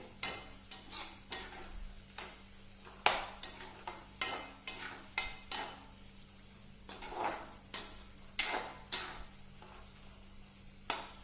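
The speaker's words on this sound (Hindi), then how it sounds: "अब जब तक ये हम भून रहे हैं, इसको धीमी ही आंच पे भूनेंगे।" Mawa being stirred and roasted in a pan over low heat, a spoon scraping the pan in a steady repeating rhythm roughly twice a second, with a soft sizzle and a low hum underneath.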